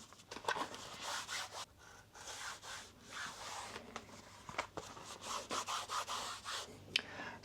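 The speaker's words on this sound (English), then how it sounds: "just to give the whole trim a complete wipe" Cloth wiping down the plastic wheel arch trim on a VW Crafter camper van conversion, a steady run of soft rubbing and scratchy strokes repeating close up, with no talking.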